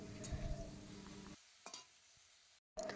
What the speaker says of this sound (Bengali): এই যে একটু জাস্ট নাড়াচাড়া করে কষে নিচ্ছি মাংসের মতো দেখতেই পাচ্ছ বন্ধুরা ভালোভাবে কষে নিচ্ছি আমি